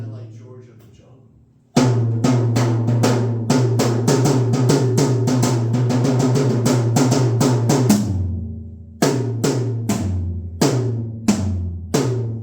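A 9-inch tom played in a drum clinic: a long, fast roll of rapid, evenly spaced hits that ends in a run of slower separate strikes, loud and close, with a faint murmur of voices near the start.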